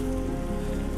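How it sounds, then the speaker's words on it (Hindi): Heavy rain pours down on a garden, a dense, loud, continuous hiss of drops striking the surfaces with no pauses. "बारिश अभी भी हो रही है, बहुत काफ़ी बारिश है।"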